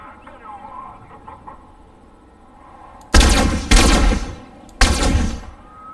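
Bursts of automatic gunfire in Fortnite: three loud, sharp volleys in quick succession after a quieter stretch of faint background game sound and soft voice.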